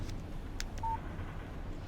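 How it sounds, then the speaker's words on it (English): A short electronic beep of a phone text message alert in the video game Alan Wake, a single clean tone heard over a quiet ambient game background. "Text message from Barry."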